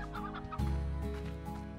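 Chickens in the video game Slime Rancher clucking, several close, clear clucks in quick succession with a deeper burst partway through, loud and alone with no speech.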